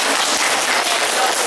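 An audience at a children's theater show claps in a dense, steady burst of applause that fills the whole moment evenly, with no voices rising above it.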